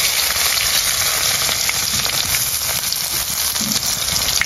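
Chopped onion sizzles loudly in hot frying oil alongside whole dried chilies, bay leaf and cumin, a dense steady crackle close up with no voices.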